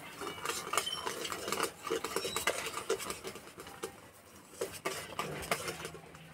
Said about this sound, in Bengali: এবার ভেজে রাখা সুজি দিয়ে দেবো।